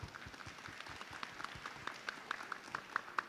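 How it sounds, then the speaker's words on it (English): An audience applauds panel speakers at a conference. The clapping is scattered and fairly distant, with individual claps standing out toward the end and soft crowd murmur underneath. "let's put our hands together for our panel speakers"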